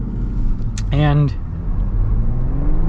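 Steady low rumble of a Ford Bronco Raptor's 3.0 engine on 37-inch tires, heard from inside the cabin with a person talking over it.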